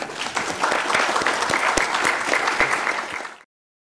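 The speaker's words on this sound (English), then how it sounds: "Let's give her a round of applause too." A round of applause from an auditorium audience at a journalism award ceremony, steady dense clapping with a few sharp claps that cuts off abruptly.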